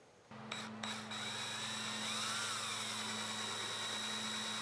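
A power drill with a 7/16 inch bit whirs up and runs with a steady high-pitched whine and low motor hum, close by and continuous after a couple of brief starts, drilling into an Aprilia Tuareg 660 motorcycle part.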